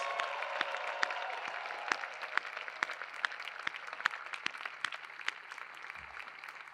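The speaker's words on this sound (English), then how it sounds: "Let's have one more round of applause for these outstanding scholars." Applause from a ceremony audience honoring doctoral graduates, a soft, sparse wash of clapping with distinct individual claps standing out, moderately distant.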